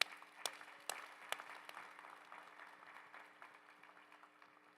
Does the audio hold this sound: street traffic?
no